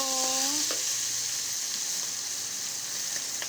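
Hot oil sizzles and spits steadily in a pan of frying sotanghon glass noodles, a continuous hiss with faint pops, heard up close at low volume and with no talk.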